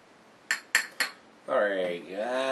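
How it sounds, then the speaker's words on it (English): Pale ale poured from a bottle into a glass: a few sharp clinks of glass first, then a steady gurgling, fizzing pour lasting about a second, close and moderately loud. "Get it in the glass."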